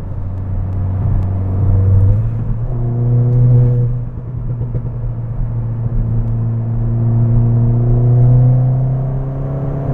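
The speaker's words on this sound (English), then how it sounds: "What a machine. Oh, it's so nice, this car, the sound." Ford Fiesta ST stage 2 driven hard on a winding road, its engine droning loud and close with a steady low tone that swells through gear changes and surges back up, exhaust note strong throughout.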